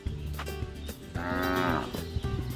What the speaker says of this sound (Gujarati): ત્યાં તો ભેંસ બોલી